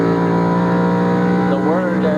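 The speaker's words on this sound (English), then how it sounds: "You can hear him go down a gear there." A 1999 NBS race car at the Lysol 200 drones loudly through a fast left-hand corner, its steady engine note bending as it drops a gear, with a commentator talking over it.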